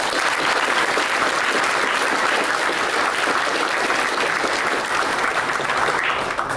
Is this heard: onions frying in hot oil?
no